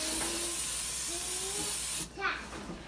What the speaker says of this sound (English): we're going to spray the pan with this no stick vegetable oil cooking spray